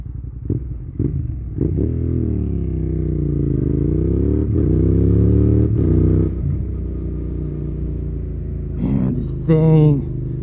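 Motorcycle engine running during a ride after an oil change, a loud close rumble rising and falling as it revs, followed by a short clatter near the end.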